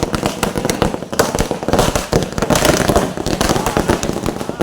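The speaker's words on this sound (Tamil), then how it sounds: "சிறப்பான முறையில் பட்டாசுகளை வெடித்து" Firecrackers burst in a dense, rapid crackling string at a celebration, loud and continuous with sharp pops packed together.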